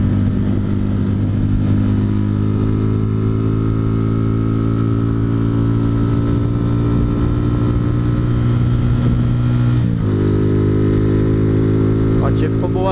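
A Honda Fan 125 motorcycle with a passenger, running a 15x38 sprocket ratio, holds a steady engine drone while cruising, with a brief shift in pitch near the end; the rider is heard talking.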